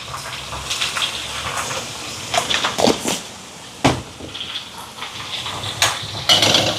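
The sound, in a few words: water being poured into a cooking pot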